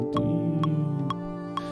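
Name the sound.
recorded double bass playing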